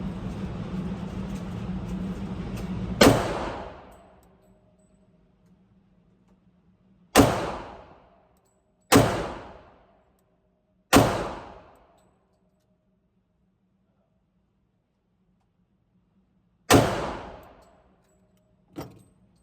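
Glock 21 and Sig 320 .45 pistols fired at 10 yards: five loud, sharp reports spaced a few seconds apart, each ringing off briefly, with a fainter crack at the very end.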